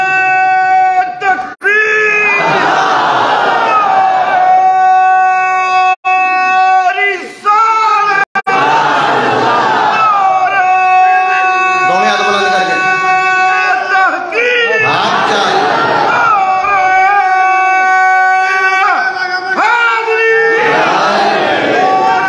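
A large crowd shouts political slogans such as zindabad in loud repeated waves of massed voices, with a lead voice calling and the crowd answering, continuous and close throughout.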